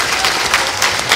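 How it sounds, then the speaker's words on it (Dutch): Brief burst of warm audience applause for the guests at the close of a Dutch science-and-humanities talk show, dense clapping heard close and loud for about a second. "Een hartelijk applaus voor deze gasten."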